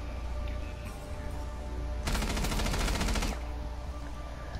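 Rapid automatic gunfire from Rainbow Six Siege erupts in a dense, loud burst of about a second, standing out over a steady bed of game ambience and low hum.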